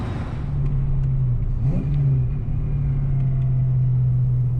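A Fox body Mustang's V8 engine drones at a steady pitch, dipping briefly as if through a gear change before settling back into an even, loud rumble heard from inside the car.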